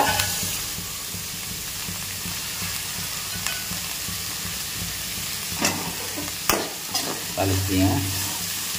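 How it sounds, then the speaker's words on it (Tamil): Curry leaves tempering in hot oil for an egg curry give a steady, close sizzle and crackle throughout, with a few sharper spits and utensil scrapes toward the end. "கருவேப்பிலை போட்டு தளிச்சிடலாமா?"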